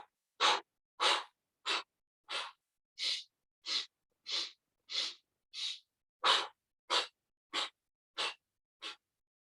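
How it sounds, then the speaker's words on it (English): Fourteen short, sharp breaths in quick succession, close and clear, as five sniffs in through the nose and five segmented exhales out through the mouth, each burst separated by a brief silence. "So it's like 5 sniffs through the nose"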